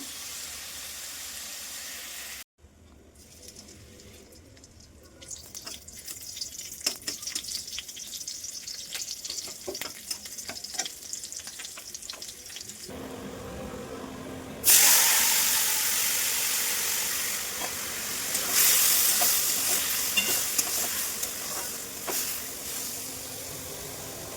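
Food fries and is stirred in a pan, a continuous close sizzle with scraping and stirring clicks, growing louder and hissier in the second half as the heat rises, no voices.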